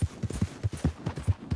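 A horse's hooves trot in a steady clip-clop rhythm in Red Dead Redemption 2, about two strikes per beat over a short stretch, close and clear with no talk.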